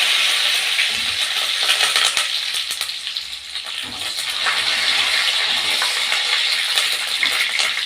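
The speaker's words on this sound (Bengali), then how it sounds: "একটু লাল করে মুগ ডালটা ভেজে নিতে হবে" Mung dal fries in a pan for a Bengali vegetarian chalkumra ghonto, a bright, crackling sizzle with intermittent stirring clatter and scrapes, close and fairly loud, with no voices.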